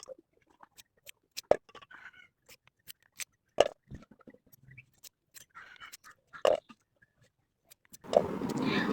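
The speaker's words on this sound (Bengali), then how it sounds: "এদিকে আমি আবার সিম আলু কেটে নেবো" Flat beans and potatoes are sliced by hand for a fish curry. Sparse, crisp snaps and clicks ring out quietly at irregular intervals, then a short rush of broadband noise comes at the end.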